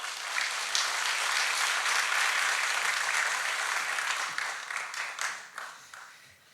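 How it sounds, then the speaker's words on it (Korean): A church congregation applauds warmly as a member comes forward to speak. A thick, steady wash of clapping breaks into looser, separate claps that fade over the last couple of seconds. "따뜻한 박수 부탁드립니다."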